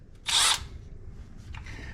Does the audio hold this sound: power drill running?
yes